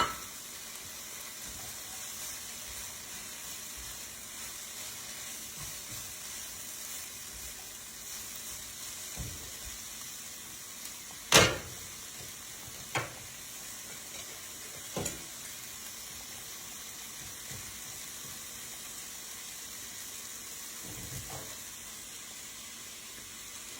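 Mushrooms hissing and sizzling in a chicken stir-fry pan beside thick teriyaki, a steady broadband fry with a few sharp clicks and pops of utensils against the pan.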